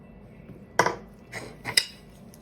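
Yeast, honey and salt are stirred together in a bowl for focaccia dough, heard as a few sharp clinks of a utensil against the bowl with quiet scraping between them, close and isolated.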